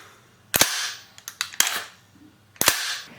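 The charging handle of a GHK M4 airsoft rifle pulled back and released, three loud sharp metallic snaps with small clicks between them, close up and without speech.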